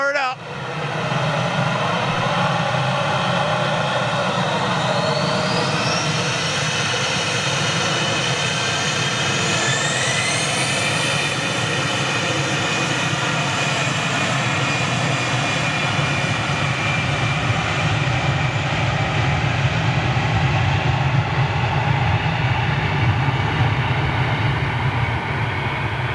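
Aircraft engines spin up from a start into a loud, sustained whine and roar with rising tones, close and continuous, while people talk faintly beneath.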